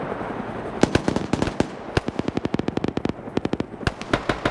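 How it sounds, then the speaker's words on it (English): Gunfire rattles through a player-versus-player military video game match on Altis: loud, rapid bursts of automatic shots in clustered volleys with short gaps, and no talk over them. "More smoke grenades being thrown up."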